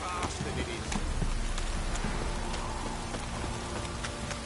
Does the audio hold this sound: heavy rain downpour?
yes